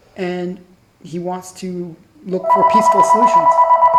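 A telephone rings with a steady electronic trill of repeated pulses, loud and continuous through the second half, following a stretch of someone talking.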